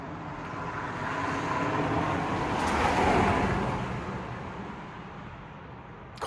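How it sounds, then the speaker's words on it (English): Cars pass on a nearby road, one swelling whoosh that builds, peaks midway and fades again over a low, steady traffic rumble, with no voices. "Cars passing by"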